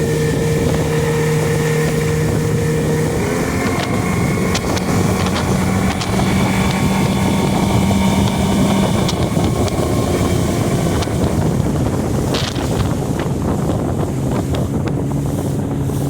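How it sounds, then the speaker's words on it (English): The outboard motor on a 2019 Tracker TF 175 runs steadily under power on a lake, a constant loud drone mixed with heavy wind buffeting and water rush, without speech. "Let you see the motor running under power."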